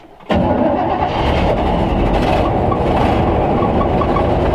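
A 1965 Chevrolet C10 pickup truck engine cranks and catches abruptly after a brief quiet moment, then settles into a loud, rough, rumbling run close by.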